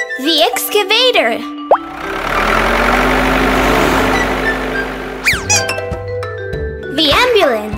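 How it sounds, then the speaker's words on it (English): A cartoon excavator engine rumbles steadily for a few seconds, loud and near, framed by plopping effects and a voice before and after. "The excavator."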